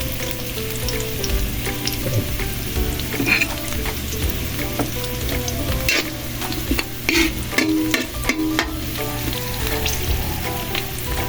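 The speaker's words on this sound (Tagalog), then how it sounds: "Kaya gisahin mo natin yung ricado at saka yung ano guys, labong gisahin mo natin." Bamboo shoots and aromatics sauté loudly in a hot pan, with a dense, busy sizzle and repeated scraping and clattering of a spatula stirring throughout, close and unbroken by any talk.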